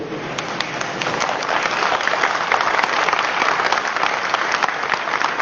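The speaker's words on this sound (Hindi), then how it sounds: "अपने लिए ताली बजाइए आप लोग" Seminar audience at a business development meeting clapping for themselves, sustained loud applause from a large crowd of many hands filling the room without a break.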